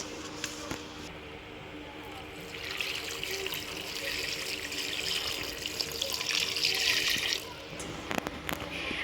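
Leafy greens are rinsed under running water in a kitchen sink, a tap gushing and splashing for several seconds with lighter trickles and handling noises before and after, close by.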